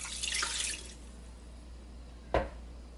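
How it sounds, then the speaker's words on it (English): A cup of water poured into a Ninja Foodi fitted with its air crisp basket, a short soft splashing pour followed by a single sharp knock a moment later. "I'm going to put in a cup of water."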